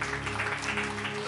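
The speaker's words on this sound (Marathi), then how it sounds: "जरा जोरदार टाळ्या प्रभूच्या गौरवासाठी." Congregation clapping during a Marathi church sermon, a steady wash of applause over a low sustained hum, moderately loud and continuous.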